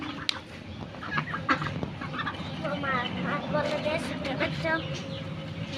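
Ducks feeding from their food, giving repeated nasal calls and clucking sounds at close range over a busy farmyard background, with a person's voice talking nearby.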